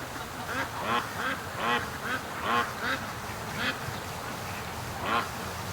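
Ducks quack repeatedly in scattered bursts over steady outdoor background noise, at a moderate distance.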